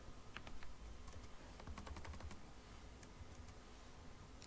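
Quiet tapping on a computer keyboard while entering numbers into a Java form program, irregular clusters of light key clicks, soft and close against a faint background hiss.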